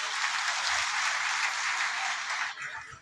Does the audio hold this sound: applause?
yes